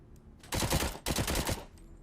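An SMG from Robocop Rogue City fires two rapid automatic bursts, each about half a second long, loud and close, separated by a brief gap.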